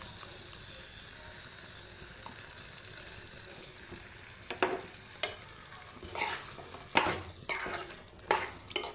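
Ground coconut is stirred into a simmering jackfruit seed gravy. A soft, low bubbling runs under several louder clinks and scrapes of a spoon against the pot, which grow more frequent toward the end.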